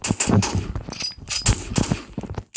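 Rapid gunfire in the video game Flick, sharp close shots in quick bursts and short strings with brief gaps, loud and without talk.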